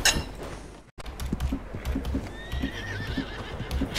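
Horse in Red Dead Online gives a loud whinny at the start, then after a brief gap its hooves clop steadily and evenly, with a thin whistling tone drifting above toward the end.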